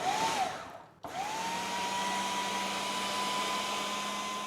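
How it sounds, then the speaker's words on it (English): Food processor pulsing smoked eggplant for baba ganoush, a steady loud motor whir that cuts out briefly, then starts again and runs evenly to the end, with no talking. "And then that goes on the machine. We're going to pulse that."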